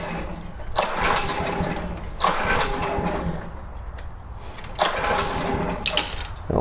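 A Honda 21-inch self-propelled walk-behind lawn mower with a faulty carburetor, choke on, being pulled to start: three rough bursts of engine chugging, close and loud, each dropping off before the next pull, no speech.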